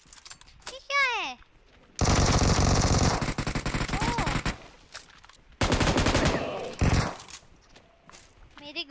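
Automatic gunfire in the PUBG Mobile video game, with long rapid bursts that are loud and close, separated by short pauses, alongside game effects and a voice that cuts in briefly.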